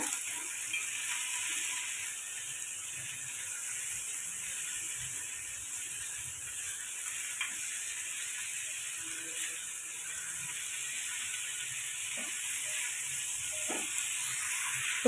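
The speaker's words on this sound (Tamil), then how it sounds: "கோக்காயை ஒரு அஞ்சு நிமிஷம் நம்ம சிம்மிலே போட்டு மூடி போட்டு வதக்கி விட்டு எடுத்துக்கோங்க" Ivy gourd (kovakkai) stir-fries with spices in a covered pan on low flame, giving a steady, even sizzle and hiss throughout with occasional faint clicks and scrapes.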